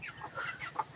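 Chicken chicks cluck and cheep in quick, soft bursts close by, several short calls in a row with little else around.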